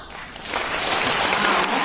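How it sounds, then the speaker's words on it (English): Audience at an Odissi ballet performance clapping in a thick, continuous wash of applause that swells slightly louder as it goes on. "I guess the claps could be louder."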